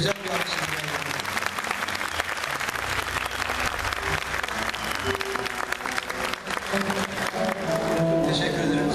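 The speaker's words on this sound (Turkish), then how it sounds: "bizim koro elemanlarından şöyle güzel bir alkış alalım" A concert audience at a Turkish classical music recital applauds the choir members with lively, continuous clapping, while voices and some tonal sounds carry through the crowd noise.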